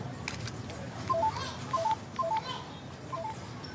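Telephone keypad tones beep in short spaced pairs as a number is dialed, clear against a quiet room background.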